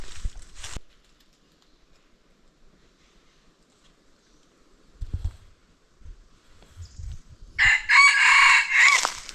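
A decoy rooster crows in short bursts, a brief call at the start and a louder, fuller crow near the end, with faint rustling and low thumps in between.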